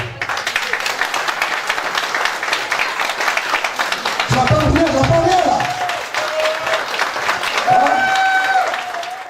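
Wedding guests applaud the bride in a lively, dense burst of clapping, with voices calling out and someone speaking briefly partway through as the applause swells again.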